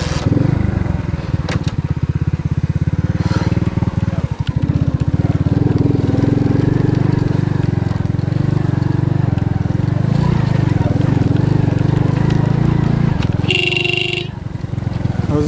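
An Alfa moped engine labours through a swamp, a loud close droning rumble held steady for a long stretch, then tailing off near the end, when a short higher-pitched burst cuts in.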